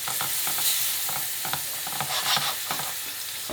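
Garlic and tomato frying in a pan as the base for squid ink paella, arroz negro: steady loud sizzling with repeated scraping stirs of a utensil, close up and with no voices.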